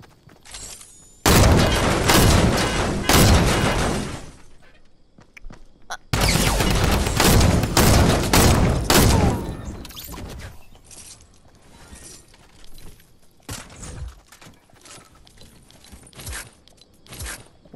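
Loud bursts of semi-automatic gunfire in a video game, fired in two dense volleys of rapid shots, each lasting around three seconds, then sparse scattered shots and clatter.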